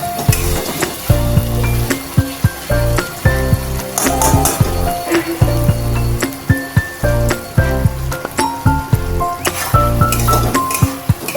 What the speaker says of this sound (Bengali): হলুদটা দিয়েও ভালো করে কষাবো।